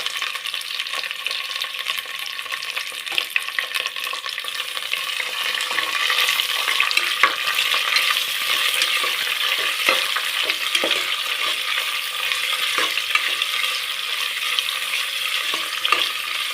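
Onions sizzle in hot oil with curry leaves in a pan, a steady frying hiss broken by light scrapes and clicks of stirring, close and continuous with no talking.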